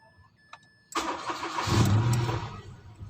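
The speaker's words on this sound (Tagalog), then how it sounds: "subukan nating pandarin" Mitsubishi Mirage engine with an idle fault after a wiring harness and throttle repair cranks briefly, fires up and settles into a steady, close idle.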